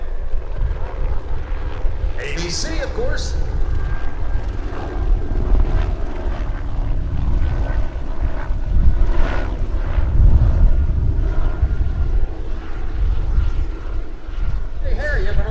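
A news helicopter flies over the 2016 Atlantic City Airshow above the beach, its engine and rotors making a loud, continuous droning rumble throughout while people talk over it.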